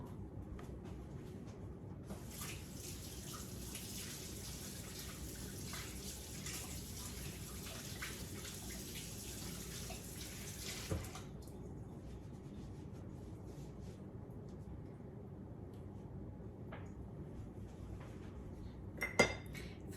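Hands being washed under a running kitchen tap, a steady hiss of flowing water for several seconds, then it stops, followed by faint clinks and handling sounds.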